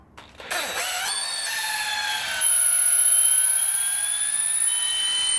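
A power drill whines steadily at high pitch, rising in strain partway through as it bores into a cast R2-D2 part, loud and close with no voices.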